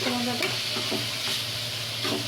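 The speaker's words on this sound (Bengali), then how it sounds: "কষিয়ে বসে মাংসটাকে ভালো করে ভেজে নিচ্ছি" Chicken meat fries in hot oil in a pan and is stirred steadily, a constant close sizzle with soft scraping strokes of a spatula on top.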